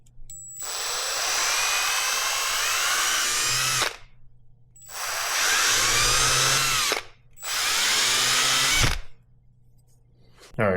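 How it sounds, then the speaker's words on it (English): A hand drill bores eyelet holes into a wooden glide bait, whining loudly in three sustained bursts of several seconds each, separated by short pauses, close and without talk. "I'm gonna go ahead and drill my holes for my eyelets"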